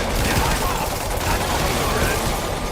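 Gunfire rings out in the video game Spider-Man Remastered on PS5, with dense, continuous shots forming a loud, sustained fusillade, and voices heard faintly underneath.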